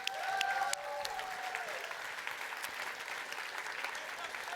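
An audience claps steadily, a dense wash of applause that carries on throughout, with a brief tonal sound at the start.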